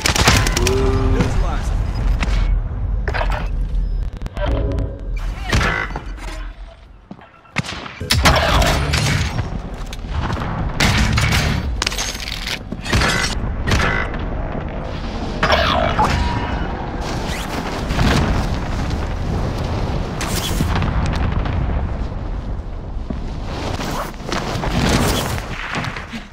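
Heavy gunfire and explosions from Call of Duty: Modern Warfare, with dense bursts of automatic fire, sharp single shots and booming blasts over nearly half a minute, and players talking over the fighting.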